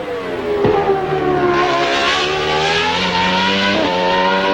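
A failing Formula 1 car engine, smoking and throwing oil, drones loudly and steadily with a rough, strained tone and shifting pitch, as if struggling.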